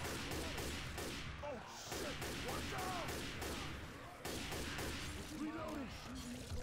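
Rapid, dense gunfire from the video game Left 4 Dead 2 runs almost continuously, loud and close, with bursts of automatic fire and voices talking over it.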